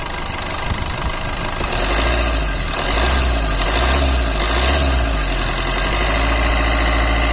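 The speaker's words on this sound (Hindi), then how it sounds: "बंद कर दो इंजन।" Diesel engine of a 2019 Maruti Suzuki Swift Dzire LDI idling, a loud, steady low rumble with a faint rhythmic knock, heard up close without talk.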